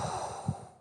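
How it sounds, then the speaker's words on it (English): A single soft breath blown out through the mouth in a breathing exercise, a gentle airy whoosh lasting under a second, heard alone with no talking. "Whoosh, out through my mouth"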